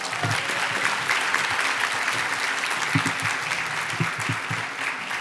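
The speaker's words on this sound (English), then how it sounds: "give them a round of applause this time" A crowd claps steadily, sustained applause from a room full of people, with a few louder individual claps standing out.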